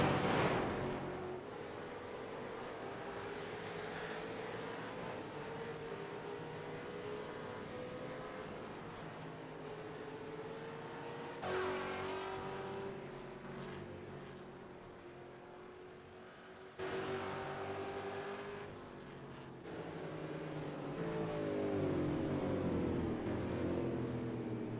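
Race cars at the Bathurst 1000 circuit roar past one after another, engines rising and falling in pitch as they accelerate and shift through a tight, winding section, loud and continuous with no talking.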